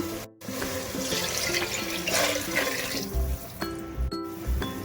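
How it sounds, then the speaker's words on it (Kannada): Four glasses of water are poured into a pot for tomato biryani rice, a steady close rushing splash broken by brief pauses and a few soft thuds toward the end. "ಮಸಾಲ 4 ಗ್ಲಾಸ್ ನೀರು ಹಾಕ್ಕೊಳ್ಳೋಣ"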